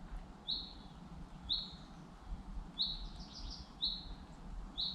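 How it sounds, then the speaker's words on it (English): Small birds chirp in short, high repeated notes, about five calls spaced evenly, set against a steady outdoor rustle, on a nature walk in Scotland. "The bird chirping. It's a few birds."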